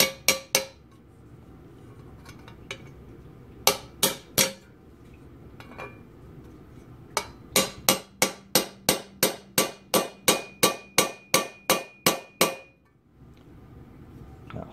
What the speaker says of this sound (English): these nuts have traditionally just been something you tighten up with a punch rather than actually, you know, using a wrench or something sensible